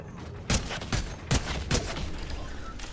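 Fortnite gunfire in a busy match: four sharp, loud shots spaced roughly evenly over a few seconds, standing out against constant game background noise.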